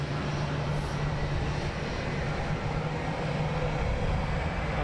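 A Wizz Air airliner taxiing out at London Luton Airport gives off a steady, moderately loud broadband engine rumble with a low hum, holding constant throughout and heard alone.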